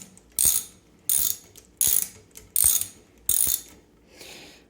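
Five crisp, loud bursts of ratchet wrench clicking as bolts are tightened on a BMX fork, evenly spaced with brief pauses between, followed by a fainter, softer sixth turn.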